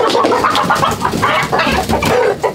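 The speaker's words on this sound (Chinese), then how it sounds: "这农村味的土公鸡，" A free-range village rooster, about a year old, clucks and squawks loudly close by in a rural mountain village, a busy, jumbled flurry of short calls with no talk.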